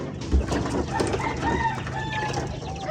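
White leghorn chicks crowded in a brooder, a busy chorus of high chirps and clucks close by, continuous over the short span.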